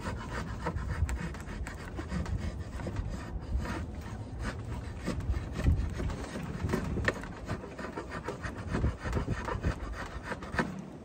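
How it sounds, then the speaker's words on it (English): A draw knife pulled backwards to scrape the wood of an Osage orange self bow, giving steady close rasping strokes in a repeated rhythm, quiet and heard without talk. "So I got the draw knife backwards, right? I'm being gentle, I'm scraping."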